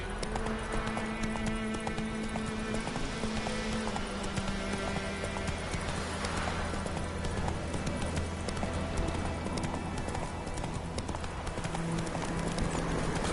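Roach the horse gallops in The Witcher 3, a steady rhythmic clip-clop of hooves running continuously over game music and ambience, with no speech.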